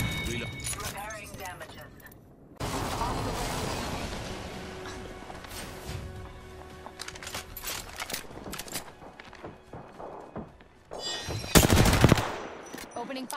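Apex Legends gunfire comes in rapid automatic bursts and single shots, sharp and fairly close, with mechanical clicks, footsteps and game voice lines in between.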